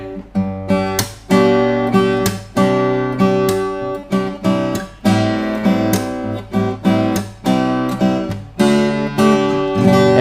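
A Tige Rogen T1 OMC acoustic guitar with a solid wood top strums chords in a steady rhythm, each strum ringing bright and full, played up close with no voices.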